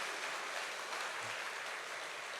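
A church congregation applauds during a Sunday sermon at Yeomchang Central Church, a steady, fairly soft wash of clapping spread across the room that holds evenly for a couple of seconds.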